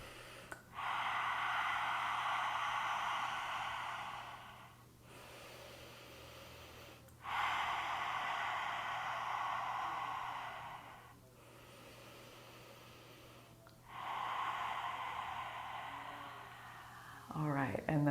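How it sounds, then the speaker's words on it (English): A person performs three lion's breaths in a chair yoga exercise, forceful open-mouthed exhales like soft roars, each lasting a few seconds with brief pauses between, close and breathy. "creating some lion's breaths, little roars"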